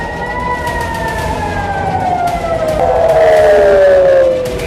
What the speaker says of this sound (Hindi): ये इजराइल के तेल अवीव से आई तस्वीरें हैं जहां सायरन गूंज रहे हैं